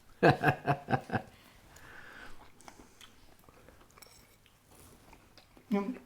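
Swiss red cabbage with onions being chewed and crunched during a tasting, a quick burst of close bites at the start, then quieter mouth sounds, light chuckling and talk at the end.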